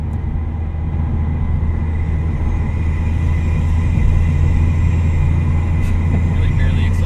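Loud car intake roar at highway speed, around 75 mph, after a very loud intake was installed. A steady broadband drone with road noise fills the cabin and never lets up.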